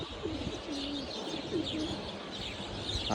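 Male flying pigeons in a loft coo in repeated low, throaty phrases, near and steady, with faint chirps from other birds and a constant background hum.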